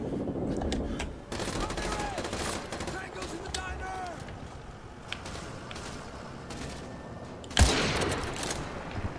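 Rapid automatic gunfire and scattered shots crackle through a Modern Warfare 2 Remastered firefight, with a sharp louder burst near the end. Players talk over the shooting.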